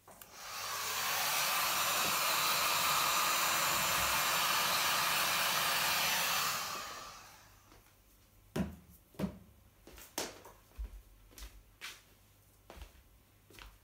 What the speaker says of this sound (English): I'm gonna use my heat gun.